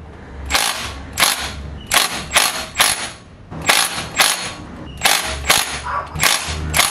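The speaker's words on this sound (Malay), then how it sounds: "pasang balik flywheel dan ikat ke semua 5 biji bolt size 19 secara silang seli" Five size 19 flywheel bolts being tightened in a criss-cross pattern during a gearbox and clutch job, sharp repeated ratcheting bursts in quick clusters with short pauses between, close and loud.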